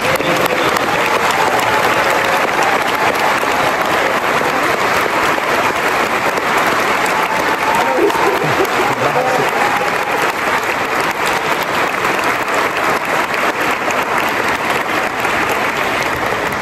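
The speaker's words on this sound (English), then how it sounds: "let's give one more round of applause for our class." A large audience applauds a pharmacy class at a white coat ceremony in an alumni center hall, sustained loud dense clapping that fills the room continuously without a break.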